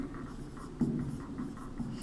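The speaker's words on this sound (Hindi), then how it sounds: "यहाँ पर उत्तर एक लिखेंगे" A pen writing an answer on paper in a Class VIII Sanskrit lesson, a faint continuous scratching with light strokes, close and quiet, and no talking over it.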